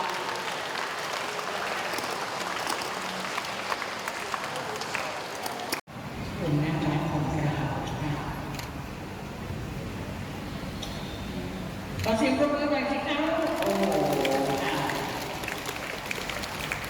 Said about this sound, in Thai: เด็กๆปรบมือด้วยนะคะ